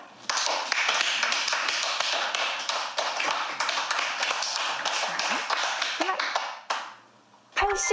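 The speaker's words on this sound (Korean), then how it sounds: "자, 지금부터 박수를 한번 쳐볼 거예요." Children in a noise-education lesson clap their hands together, a dense, continuous patter of many claps lasting several seconds before stopping abruptly, followed by a brief voice.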